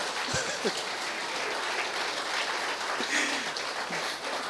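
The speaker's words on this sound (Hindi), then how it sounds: "हम लोग आपके लिए ताली बजाएंगे" Applause from a seated audience at a youth retreat interview, a steady crackling patter of many hands at moderate level, with a few brief voice fragments rising through it.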